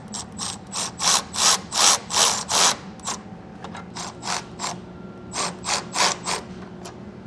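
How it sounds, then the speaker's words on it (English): A ratchet with a 14mm socket tightening nuts on Firestone Ride-Rite rear air helper springs on a 2023 Ford F-250, with loud, close, rhythmic bursts of clicking in repeated strokes and a short pause midway. "when you tighten this down, we'll use a 14mm socket"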